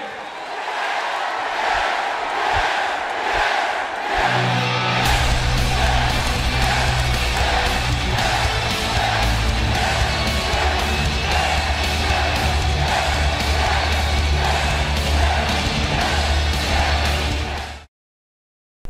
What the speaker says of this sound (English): So if I could just get one last yes chant, I would really appreciate it.